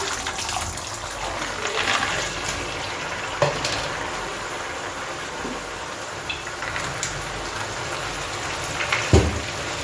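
Groundnuts frying in hot oil in a home kitchen, a steady crackling sizzle with occasional louder pops and stirring sounds, close and continuous with no talking.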